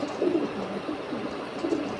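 Giribaz pigeons give soft, low cooing calls close by. Two or three throaty coos rise from a steady hum of background noise, with no talking.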